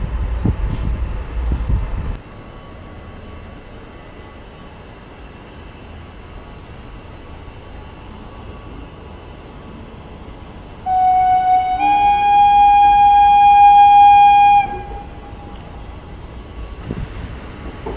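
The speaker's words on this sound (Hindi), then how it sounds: "तो रामनगर स्टेशन से अब अपनी ट्रेन का डिपार्चर हो गया है" Train 05043 departs Ramnagar station, heard from inside the coach as a low steady rumble, with a loud sustained horn blast in the middle before the rolling noise continues.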